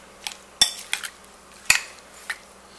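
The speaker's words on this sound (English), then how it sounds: "All right, let's mix this up." Salsa with lemon juice being mixed in a bowl, a few sharp clinks and taps of a utensil against the bowl amid soft wet stirring sounds, close and fairly quiet.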